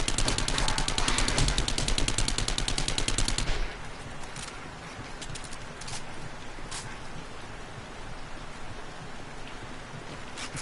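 Rapid automatic gunfire in the video game 7 Days to Die, 7 Days to Die played on PS4, during a horde night. A dense, loud rattle lasts about three and a half seconds, then gives way to quieter scattered shots and a crackling background.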